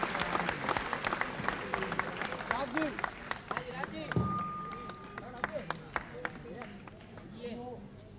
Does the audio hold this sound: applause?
yes